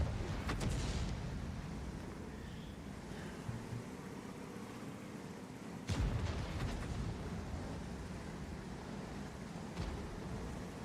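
Tank cannon firing high explosive shells in a tank video game, with repeated heavy booms over a constant low engine rumble; sharp shots land near the start, around six seconds and again near ten seconds.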